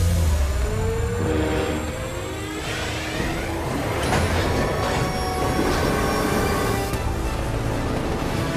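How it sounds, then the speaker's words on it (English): Armored train in the Call of Duty Vanguard video game rolling toward a tunnel ambush, a steady loud rumble with metallic wheel squeals and a rising mechanical drone that carries through the whole stretch without pause. "Train is approaching the ambush location."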